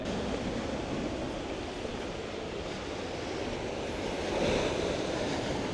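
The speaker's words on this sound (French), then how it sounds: "le bruit des vagues, je sais pas si on l'entend bien, mais il est incroyable" Steady roar of surf breaking below a cliff on the coast of Japan, with broadband wind rumble, a swell rising near the end; continuous and fairly loud, no voices.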